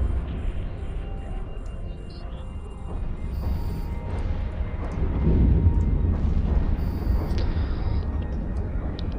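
Deep rumbling blasts and crackling booms of explosions in EVE Online roll continuously, loud and dense, swelling midway like a sustained barrage with no talking.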